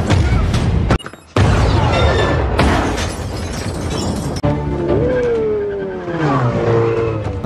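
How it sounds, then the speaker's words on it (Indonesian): In the Hobbs and Shaw film, a car races away after a bomb explosion with loud engine roar, a sudden blast and crash, screeching tires and a rising engine whine as it speeds off, all dense and close. "Ketika Hobbs melemparkan bom, mereka berhasil melarikan diri menggunakan mobil."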